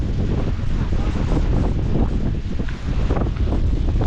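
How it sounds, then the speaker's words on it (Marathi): Water spraying upward from below at Kalu waterfall on a jungle trek, a dense rushing and splashing roar mixed with gusty wind buffeting, loud and continuous at close range. "हे बघा उलटे येत आहेत खालून फवारे वरती."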